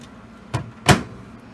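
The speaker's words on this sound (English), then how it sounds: "And then of course you close the door" A microwave oven door swings shut during cooking of a Hormel sweet chicken teriyaki meal: a soft first knock followed by a sharper, louder latch thump, close by in a quiet kitchen.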